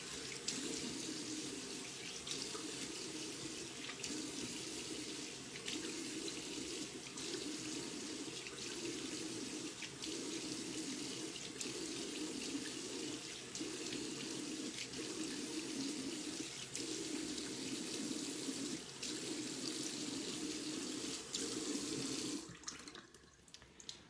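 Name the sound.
rinsing face with running tap water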